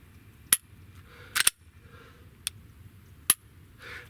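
Sharp, dry mechanical clicks from a Glock 43 pistol trigger being reset and broken, a few isolated snaps spaced irregularly over near silence.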